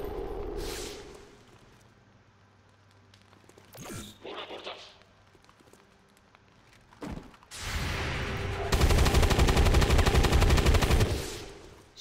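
Gunfire in the video game XCOM 2: a brief whoosh and a sharp shot near the start, then a loud sustained burst of rapid automatic fire near the end, close and dominant.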